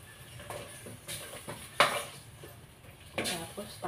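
A spoon scrapes and clinks against a cooking pot while stirring chicken tinola with lemongrass, sayote and malunggay, with several soft metallic knocks and one sharper clank, close, with a faint sizzle beneath.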